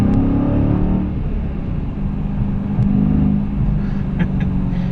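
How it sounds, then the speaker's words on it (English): A 2016 Dodge Challenger Scat Pack gives a throttle blip on a downshift while driving, a steady close engine rumble with a deep exhaust note swelling slightly through the cabin. "And then you give a little throttle blip to downshift."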